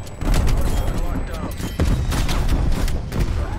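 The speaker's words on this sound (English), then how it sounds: "God, I love this AK, man." AK-47 rifle fired in Call of Duty: Black Ops Cold War, a loud, dense, continuous burst of automatic gunfire that rattles through almost the whole stretch with only a brief dip partway.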